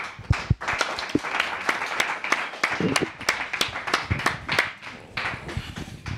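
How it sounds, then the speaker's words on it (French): A crowd applauds a guest, Yvan, owner of the Mayfair venue in Montreux, at a live show; uneven, sparse clapping with distinct sharp claps standing out, moderately close and fairly loud. "un maximum d'applaudissements pour Yvan"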